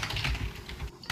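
Very fast, frantic typing on a computer keyboard during a gaming session, a dense continuous clatter of close, loud keystrokes with a brief pause near the end.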